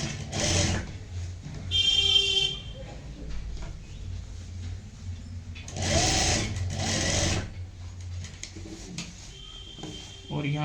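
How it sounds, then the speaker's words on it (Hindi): A sewing machine stitches a sleeve in several short, close bursts of rapid whirring clatter separated by pauses, with quiet room sounds and a little handling noise between runs. "इस पे सिलाई लगाएंगे।"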